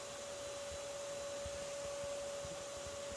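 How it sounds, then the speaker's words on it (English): A vacuum pulls in a yellow jacket nest inside a house, giving a steady faint whooshing suction roar with a constant whine and small bumps and rubs as the material is drawn in. "So as I'm vacuuming up these colonies, I'm actually trying to pull down some of the envelope at the same time."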